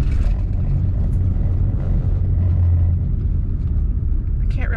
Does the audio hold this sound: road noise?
yes